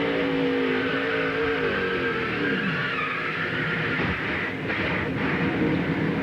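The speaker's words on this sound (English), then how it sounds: "The grinding and the crunching of short track action." Stock cars race on a short track during a NASCAR Busch Series event, a continuous loud engine roar with a grinding, rumbling edge from cars making contact, heard from on board and without any talk.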